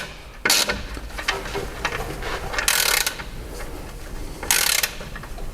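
Front suspension nuts on a Mitsubishi L200 are tightened with a ratchet. Three short, close bursts of clicking ratcheting are separated by brief pauses, with no talking.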